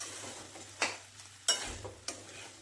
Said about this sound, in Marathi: आता आपल्याला हे मिश्रण चांगलं परतून घ्यायचंय.